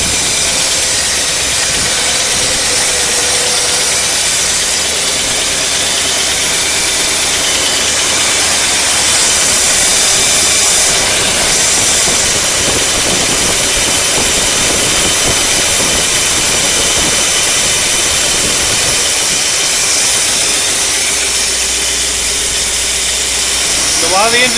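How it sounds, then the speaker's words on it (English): A 1956 Cadillac Sedan DeVille engine idling with an exhaust leak, a loud, steady rumble with a constant hissing rush that carries on throughout, while someone talks over it at times. "This exhaust leak, I can't ever get rid of it."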